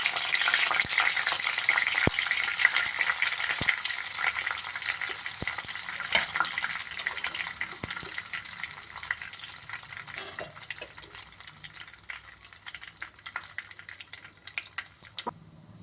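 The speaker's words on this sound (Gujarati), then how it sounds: "જીરા અને મીઠા લીમડાથી આપણે વઘાર કરશું." Cumin and curry leaves sputter in a hot mix of ghee and oil for a vegetable pulao, giving a steady, fairly loud sizzle with faint ticks and pops that slowly eases over time. No one talks.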